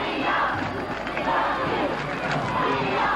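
A high school football crowd in Northview's stands cheers and yells along with cheerleaders, a dense, continuous roar of many voices with rising chant-like surges.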